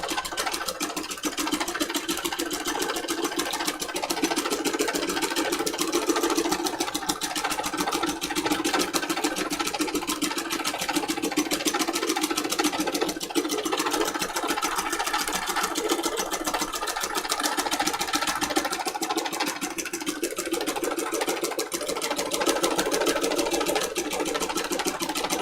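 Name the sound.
sewing machine doing free motion embroidery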